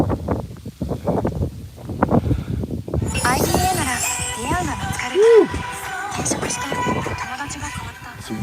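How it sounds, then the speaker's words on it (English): Wind buffeting a microphone outdoors at a street protest, heavy low rumbling gusts under people talking nearby, with other voices and crowd noise joining partway through. "It's windy."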